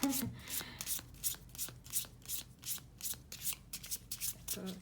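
Soft rhythmic riffling of a deck of oracle and tarot cards, repeated shuffles at a steady pace, close but fairly quiet.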